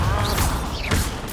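A Bombarda spell hits in Hogwarts Legacy, a whooshing, crashing magical impact with sweeping rising and falling tones and a low rumble, loud and brief, with no clear talking.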